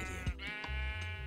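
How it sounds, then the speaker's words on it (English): Sheep in the Minecraft video game bleat in two or three quick, close calls over a steady game background, with no talking. "But we need to bait some sheep."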